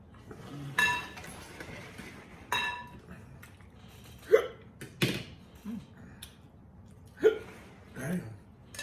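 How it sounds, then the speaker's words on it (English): Several sharp hiccups from a person eating neck bones, spaced irregularly over a few seconds, with light clinks of dishes and cutlery and some breathing between them. "I don't usually get the hiccup this quick."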